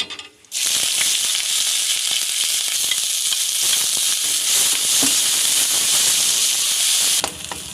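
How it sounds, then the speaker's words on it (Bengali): Cumin, garam masala and dried chillies hit hot oil with a sudden loud, steady sizzle and hiss that fills the pan, cutting off abruptly near the end. "তেল গরম হয়ে গেছে এখন আমি সব জিরে গরম মশলা শুকনো লঙ্কা দিয়ে দিলাম"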